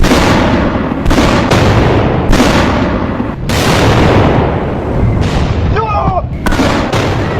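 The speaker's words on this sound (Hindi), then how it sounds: "अब ये मिसाइलें धमाका कर रही थी, इमारतों पर गिर रही थी" Missiles strike buildings in a rapid series of heavy explosive blasts and booms, loud and repeated in bursts, with faint voices in between.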